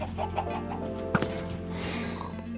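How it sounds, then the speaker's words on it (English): A Minecraft chicken gives a few short clucks over a steady in-game background hum, with one brief sharp peck-like sound in the middle. "Oh, a chicken."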